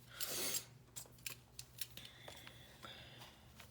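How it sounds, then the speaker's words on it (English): Scissors cut dyed paper down to size for a handmade journal. A louder snip opens the clip, then quieter, irregular cutting and rustling sounds follow close by. "We're going to cut down the dyed papers."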